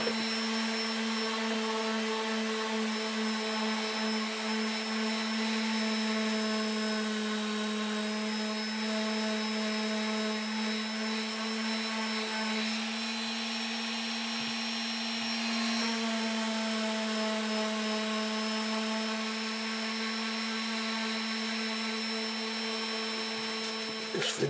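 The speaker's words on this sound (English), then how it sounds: "we'll get the orbital sander out and" An orbital sander runs on wood with a steady, even whining drone that holds constant throughout, near and unbroken, with no voices over it.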